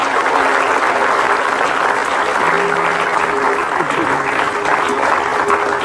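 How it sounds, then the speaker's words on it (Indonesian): Studio audience applauding two guests, a steady dense wash of clapping that runs throughout, with a faint tone and voices low underneath. "kasih tepuk tangan dulu buat mereka berdua."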